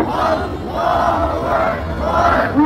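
A large crowd at an Eid Milad-un-Nabi gathering outside Comilla town hall roars a response to a takbir call, with voices rising together in three swelling waves of shouting.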